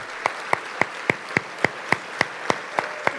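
An audience at a community foundation awards event claps for the board of directors. The claps are sparse, sharp and evenly spaced, like a few nearby hands clapping slowly, with no talking.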